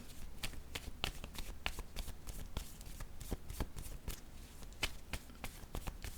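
Tarot cards being shuffled by hand, a quick run of crisp riffling snaps and soft slides close up, with a steady papery texture throughout and no voices.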